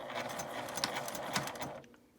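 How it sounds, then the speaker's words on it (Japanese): A sewing machine stitches around a tote bag's external zipper pocket, a quiet fast steady rattle of the needle that runs about two seconds and then stops. "この周りをミシンで縫っていきます。"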